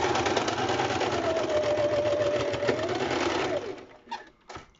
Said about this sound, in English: So we sew it at this point after folding it.